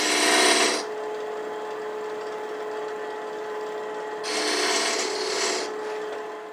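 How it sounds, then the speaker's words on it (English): A metal lathe cuts a small chamfer on the end of a workpiece. A steady tonal whine runs throughout, with two bursts of harsh, rasping cutting noise, one at the start and one later. No voices. "The first thing we're going to do is put a little chamfer on the end, of course."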